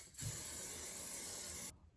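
A single continuous hissing spray of Fake Bake self-tan mist onto arms, close and steady for about a second and a half before cutting off.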